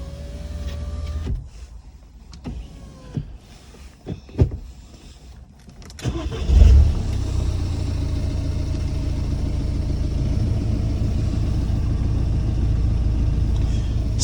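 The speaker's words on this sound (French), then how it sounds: "C'est un peu le bruit de tracteur, de voiture diesel qu'elle fait." A MINI Cooper D R56 with a diesel engine starts after a few clicks and electric window whirs, then idles with a steady, gravelly, tractor-like clatter that stays close and constant.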